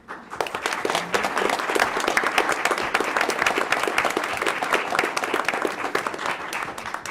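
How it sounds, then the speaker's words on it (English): At a school board meeting, people applaud students' family members with lively, close clapping in distinct individual slaps, starting abruptly and continuing steadily before easing slightly at the end. "I'd also like to extend a round of applause for our students' family members joining us today."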